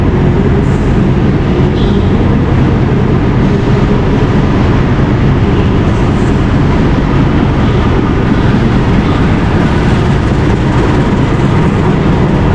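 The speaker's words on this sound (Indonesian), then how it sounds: "kereta api Pangandaran tiba di stasiun Bandung. Nah, ini detik-detik kedatangannya." The Pangandaran train, three cars including a panoramic car, rolls into Bandung station with a steady, heavy rumble and rattle, loud and continuous throughout.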